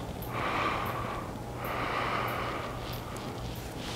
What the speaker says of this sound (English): you'll cup your hands over your nose and your mouth and just inhale deeply for 10 seconds